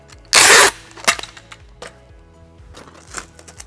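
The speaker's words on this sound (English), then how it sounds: "I'm going to apply the packing tape across the section of sediment." Packing tape pulled and pressed across a sediment section in a geologist's squeeze box, a loud ripping tear of tape near the start followed by a few lighter crackles and taps, no voice heard.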